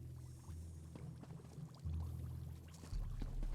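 Liquid poured while a purifying potion is brewed in the Elder Scrolls Online video game, a soft continuous trickling and sloshing that grows a little louder in short stages, close and quiet with no talk.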